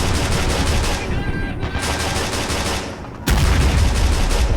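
Light machine gun fire from the video game Men of War: Stalingrad, dense continuous bursts of rapid shots that briefly thin out then resume loudly, with the crackle of battle all around.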